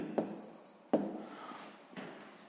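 Pen writing the answer to a sixth-grade math exercise, with two crisp pen strikes followed by softer scratching strokes, close-up and quiet, with a little speech-like murmur in the background.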